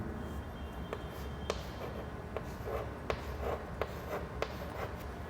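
A pen writes numbers on paper in faint, close strokes, with light scratching and a series of small ticking taps spaced through a quiet background.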